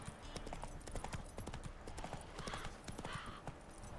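Hooves of Roach, a horse in the game Witcher 3, clip-clop in a quick, steady rhythm, soft and close, with a brief snort-like sound partway through.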